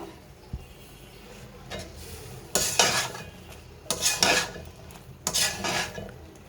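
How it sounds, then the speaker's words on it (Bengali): Vegetables are tipped into a pot of half-boiled lentils, giving three bursts of pouring and clattering with a wet splash, separated by quieter stirring and faint background noise. "তো এখন আমি এখানে সবজিটা ঢেলে দেব।"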